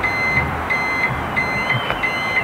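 A beeping sound bulb fitted on an agricultural vehicle gives out a regular series of short, high, sharp beeps, evenly spaced and close by, over a low background rumble with no talk.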